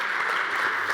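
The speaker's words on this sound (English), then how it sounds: "Please give a clapping hand." An audience at a quantum technology conference session in Helsinki gives a short burst of applause, a soft, even patter of clapping that is fairly faint and lasts only a moment.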